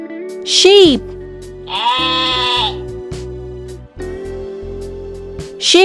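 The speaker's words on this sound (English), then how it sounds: "Sheep are ruminant mammal, typically kept as a livestock." Toy sheep bleats sound in repeated wavering calls, loud and close, with a narrator's voice talking in between the calls.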